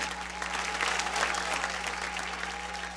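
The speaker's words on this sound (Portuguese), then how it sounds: "Pode aplaudir o Senhor com as suas mãos." A church congregation applauds during a Tuesday worship service, dense steady clapping from many hands filling the room at even loudness throughout, with a constant electrical hum underneath.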